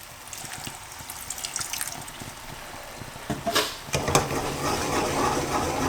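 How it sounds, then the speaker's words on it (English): Water pours into a pot of chicken curry on the stove, a steady splashing stream that swells into louder sizzling and bubbling midway and continues close and alone. "So what I'm going to do now is add some water."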